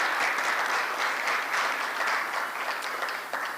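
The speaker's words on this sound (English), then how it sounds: "Kindly let us applaud them." Steady, dense applause from a large audience at a justice administration launch event, many hands clapping continuously at an even loudness throughout.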